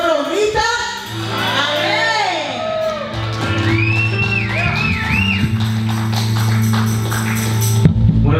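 A church congregation shouts and cheers together during a service, a loud swell of overlapping voices and whoops over sustained organ-like music, with scattered yells rising and falling throughout.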